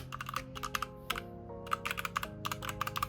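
Close, crisp clicks from typing on a red Speed K87 S mechanical keyboard with red keycaps, coming in quick irregular bursts with short pauses between them.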